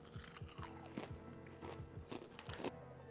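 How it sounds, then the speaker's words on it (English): Someone bites into and chews UK potato and carrot chips, giving a series of faint, close, crisp crunches in quick, irregular succession. "The crunch on the potato is really, really good."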